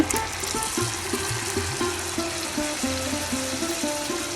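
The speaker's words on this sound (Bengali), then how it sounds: "এখন অল্প করে পানি দিয়ে দিব।" Water poured into a frying spice paste for prawn malai curry, a steady loud bubbling and hissing with rhythmic gurgling pulses throughout.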